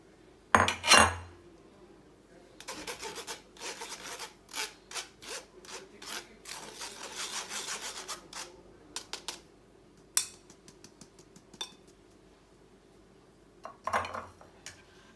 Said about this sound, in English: we need to filter this out to get rid of any lumps